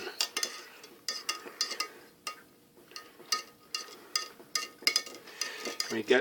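A spoon stirs Atholl Brose in a container, producing soft, fairly regular clinks and scrapes close by at a moderate level, with no voices.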